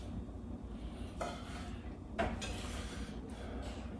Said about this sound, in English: Scoop in some filling.